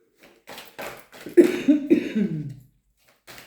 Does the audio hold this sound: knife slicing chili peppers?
no